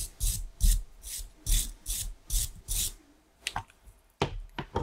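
A metal 18 mm socket is rubbed clean so its marking can be read: about seven quick, rhythmic rubbing strokes close up, then a few sharper scraping swipes.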